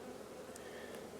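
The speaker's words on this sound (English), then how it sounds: "So the bees are emerging" Honeybees buzz inside a hive during a beekeeping inspection on a farm, a faint continuous hum with no talk.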